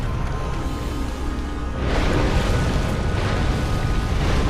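An explosion booms in Dark Souls Remastered, a loud, broad rumbling blast that swells about midway and keeps roaring as a dense wall of noise.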